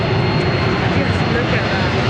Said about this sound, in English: Here we go, the Super Hornet.